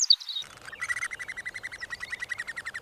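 A common cuckoo chick gives rapid, insistent begging chirps in a steady run of sharp, high peeps, close and alone with no other sound.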